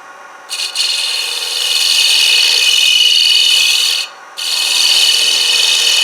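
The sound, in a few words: shear scraping a wooden heart-shaped bowl on a lathe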